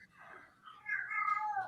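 A domestic cat meows in drawn-out, wavering cries that rise and grow louder toward the end, close by, with no talk over them.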